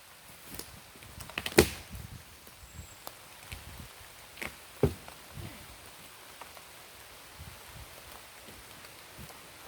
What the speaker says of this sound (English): Starting to rain hard.